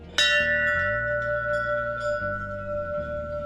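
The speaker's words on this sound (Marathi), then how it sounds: "चला आता घंटा वाजून घेऊया" A single clear strike of a metal bell at an ancient Mahadev temple, the bright ring sustaining and slowly fading, while a lower droning hum beneath it shifts pitch in steps.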